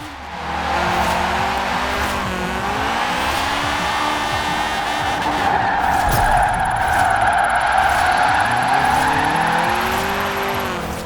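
A 1995 VW Corrado VR6 with AWD and a 719-hp drift build in Forza Horizon 4 holds a steady, loud tire squeal under a droning engine while sliding, with the tone shifting slightly across the slide and no speech.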